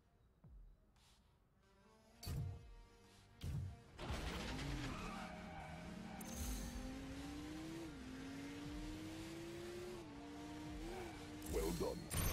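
A car in the Transformers: Revenge of the Fallen video game starts with a few thumps, then drives with a rising, shifting engine whine and skidding tire noise. A synthetic game voice speaks briefly near the start.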